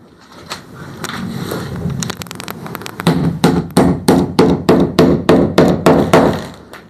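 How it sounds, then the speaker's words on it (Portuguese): Hammer driving large nails into the wooden frame of a small four-drum boat, first scattered blows then about ten loud, evenly spaced strikes close by, with no talking. "Tô pregando com um prego maior aqui hoje, porque o prego 12 por 12 acabou."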